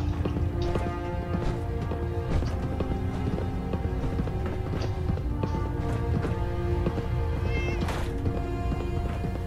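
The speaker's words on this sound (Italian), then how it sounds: "Si sente miagolare ogni tanto, ragazzi, il gattino." Cat meows from the video game Fallout 4 sound now and then within a dense in-game soundscape of music, footsteps and effects, never standing out clearly on their own.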